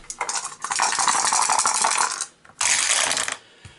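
Dice shaken in a dice cup and tumbled out during a game of Arkham Horror 2nd Edition: a long, loud, close clattering rattle, a brief pause, then a second shorter burst of rattling.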